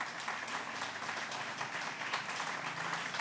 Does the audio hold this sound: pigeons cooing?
no